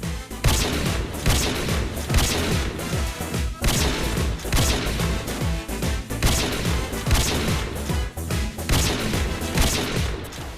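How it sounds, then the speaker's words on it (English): LMG fire in the shooter game Strinova, a sustained loud stream of rapid automatic bursts with crashing impacts that barely pauses, up front and alone without talk. "Her LMG absolutely shreds!"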